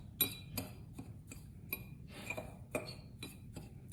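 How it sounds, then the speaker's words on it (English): A small whisk clinks against a bowl while mixing coating for baked chicken fingers. The taps are sharp and quiet, come in an irregular rhythm, and are close up with nothing else around them. "My little whisk in here. Go ahead and just mix this up."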